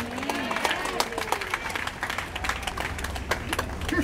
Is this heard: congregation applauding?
yes